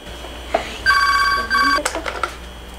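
A telephone rings nearby in two clear electronic tone bursts, and voices and movement follow right after.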